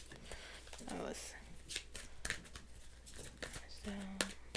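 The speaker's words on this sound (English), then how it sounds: "Alright, let me just shuffle." Tarot cards are shuffled by hand in a riffling, papery burst with light slaps and crinkles, close and fairly quiet, while a voice talks softly in the background.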